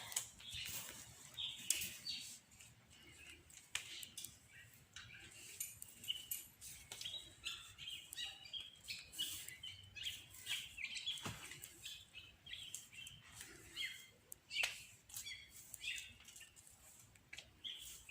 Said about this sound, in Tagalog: Yung ingay ng mga ibon.